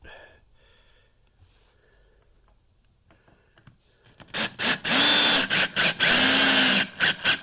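After a quiet stretch, a cordless drill whirs loudly in several short bursts, pausing between them as it drives a screw into a squeaky wood floor.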